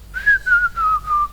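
A person whistles a long descending tone broken into four smooth pulses, loud and close, as if imitating a signal whistle; no speech accompanies it.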